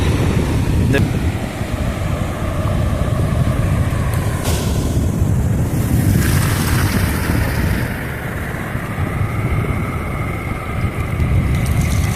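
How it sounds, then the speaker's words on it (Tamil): Heavy, rough sea waves break on an island shore in Ras Al Khaimah, UAE, under strong wind. A loud, continuous roar with rolling surges, and gusts buffeting the microphone throughout. "ரொம்ப ஹெவியான ஒரு இது அலை வருது."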